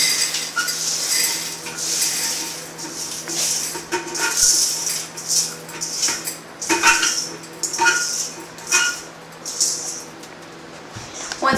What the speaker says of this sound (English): we take our strainer filled with the pebbles, and we take our bowl, and we just dump all the pebbles back inside of the bowl